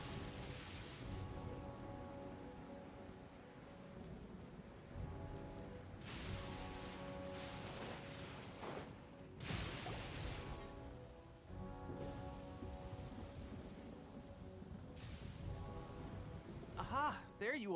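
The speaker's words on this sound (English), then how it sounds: "Ah, it's raining?" Rain falling in the video game Genshin Impact, a steady soft patter on surfaces with occasional low thunder rumbles, faint overall, while characters speak over it at intervals.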